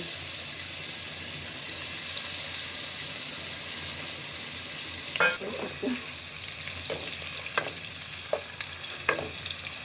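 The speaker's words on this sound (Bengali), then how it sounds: "এখন দিয়ে দিচ্ছি চিকেনটা আগে ভেজে নিব।" Constant bright sizzling of chicken frying in ghee and butter, close and steady, joined midway by irregular clinks and scrapes of a utensil stirring the pan.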